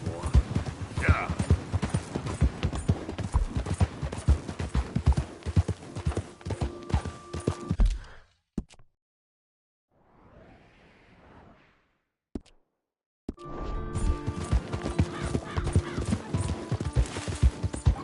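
Horse hooves galloping in the Red Dead 2 video game, rapid loud clip-clop beats that stop briefly mid-way, leaving near silence with a faint murmur, then resume at full pace.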